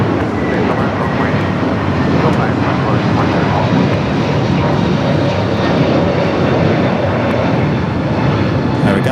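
Boeing 777 jet departing LAX on runway 25 left, a loud continuous engine roar holding steady throughout, with a person talking over it.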